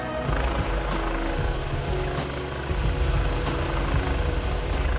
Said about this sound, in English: the Coast Guard search and rescue helicopter is one of the most striking